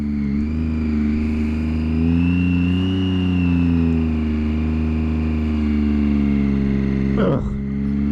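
A 2012 Triumph Daytona 675 motorcycle engine runs steadily while being ridden, a loud, continuous mid-pitched drone with gentle rises in revs and a brief sharp disturbance near the end.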